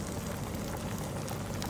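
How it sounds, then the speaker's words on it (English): Rice boils in a pot on the stove, a dense, steady bubbling and popping heard up close with no voices over it. "The old rice is bubbling away there."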